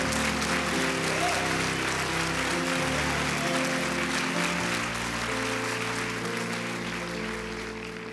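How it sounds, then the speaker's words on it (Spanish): A church congregation claps steadily throughout, dense continuous applause sounding over sustained organ or keyboard chords that change pitch, with the overall level easing slightly toward the end. "Vamos a darle fuertes aplausos al Señor."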